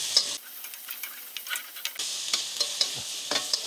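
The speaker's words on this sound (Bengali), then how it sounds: "তারপরে এই সবজিগুলো হালকা একটু ভুনে নিতে হবে, হালকা একটু সতে করে নিতে হবে" Vegetables, including peppers and carrots, are stirred and sautéed in a pan for a Chinese chicken vegetable dish. Quiet sizzling runs underneath, broken by repeated scraping and clicking strokes of a utensil against the pan, with no talk.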